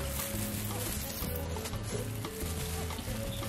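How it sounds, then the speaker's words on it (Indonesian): Flour-coated mushrooms drop into very hot, deep oil and fry with a steady, close crackling sizzle that runs throughout, with faint tonal background music underneath. "langsung kita cemplungin ke minyak yang super panas"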